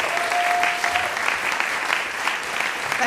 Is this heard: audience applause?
yes